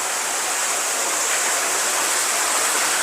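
Water of an underground river inside Cavinti Cave rushes in a steady, loud, hissing flow, close and unbroken.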